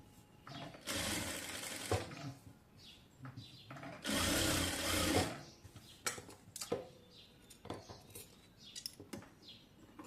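A sewing machine stitches a designer sleeve in two sustained runs of rapid, even whirring, separated and followed by quieter handling clicks and fabric rustling.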